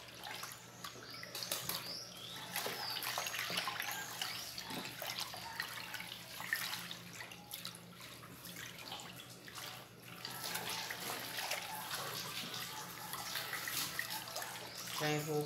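Water swirling and sloshing as a homemade liquid coconut soap mixture is stirred in a container with about 4.5 litres of water, a steady continuous wash of liquid sound with no speech over it.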